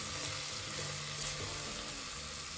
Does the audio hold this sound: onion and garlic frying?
yes